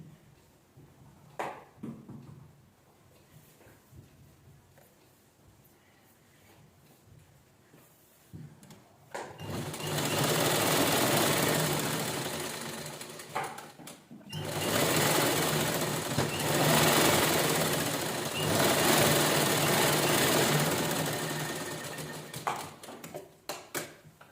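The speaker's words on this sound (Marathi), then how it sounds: "व्यवस्थित असं त्याला आपण शिलाई करून घेऊया" A sewing machine stitching leftover blouse fabric into a cushion cover, its motor whirring in two sustained runs separated by a short pause, with quiet handling clicks before and after.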